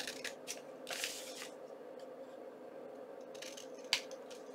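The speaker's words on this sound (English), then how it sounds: "We're just trimming right here, trimming here, and we have one more to go" Scissors trimming the paper corners of a doily envelope, a few quiet snips and paper rustles close by, faint, with no talking.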